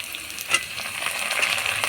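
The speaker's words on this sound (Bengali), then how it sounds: "ক্যাপসিকাম দিয়ে দেবো একসাথে, দিয়ে এগুলোকে একটু ভেজে নেব" Onions already fried in a pan for a home-style chicken curry, now joined by tomatoes, green chillies and capsicum, sizzle and crackle steadily with a few stirring scrapes, close and moderately loud, no talk.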